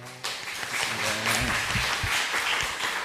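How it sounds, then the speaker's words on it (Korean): A church congregation at a Sunday morning service claps in welcome for a visiting pastor, with steady clapping that swells after a brief start and continues under some voices. "우리 큰 박수로, 환영의 박수로 하나님께 또 영광으로 돌리겠습니다"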